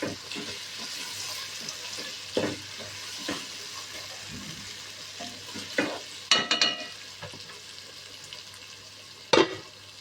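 Vegetables frying in a pan, a low steady sizzle punctuated by a few sharp scraping and clattering stirs, close by and otherwise quiet with no voices.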